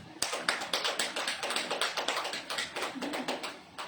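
Audience at a church sermon clapping hands in a steady, even rhythm, a sequence of sharp close claps at roughly regular intervals, moderately loud with no talk over it.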